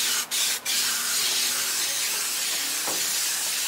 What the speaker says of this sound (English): So I'm just going to spray the sides.